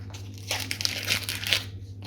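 Masking tape being peeled slowly off a freshly painted Ford Fiesta ST180 MK7 car part, a close, soft crackling rip lasting about a second with a steady low hum behind it.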